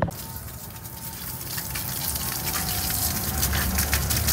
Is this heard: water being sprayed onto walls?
yes